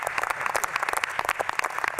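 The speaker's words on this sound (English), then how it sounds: "How about a round of applause for Secretary Chow?" Audience applause at a National Space Council gathering at the U.S. Space and Rocket Center in Huntsville, a dense, steady patter of many hands clapping close by for two seconds with no voices over it.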